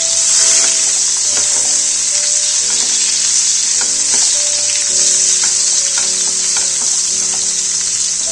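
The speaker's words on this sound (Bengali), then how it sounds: "লম্বা লম্বা এরকম কুচি করা পেঁয়াজগুলো ফ্রাই করে নেব" Sliced onion strips frying in oil left over from frying bhetki fish, a loud, constant sizzle with crackles, plus faint clinking and tonal kitchen sounds in the background.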